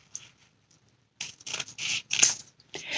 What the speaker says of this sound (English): And I'm going to cut my ribbon.